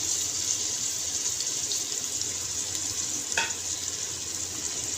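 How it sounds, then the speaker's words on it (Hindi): Chopped tinda with peas and potatoes frying in a pan gives a steady, bright sizzle that continues through the whole stretch, with one brief stirring scrape and no voices. "टिंडे डालने के बाद ही हम इसे एक मिनट फ्राई करेंगे।"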